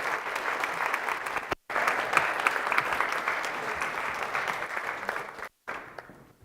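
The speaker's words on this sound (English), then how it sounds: "Round of applause for the panel." A crowd at an International Women's Day panel event breaks into loud, dense applause that rolls on for several seconds, broken by two brief silent gaps.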